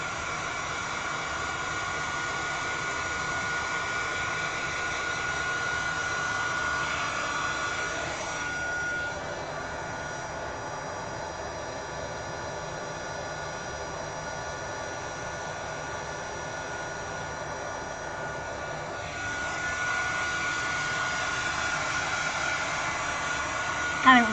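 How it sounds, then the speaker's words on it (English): Small hair dryer blowing a steady, close whoosh of air that dips briefly in the middle, then returns at full strength, continuous from start to finish. "let's dry it up with a little hair dryer"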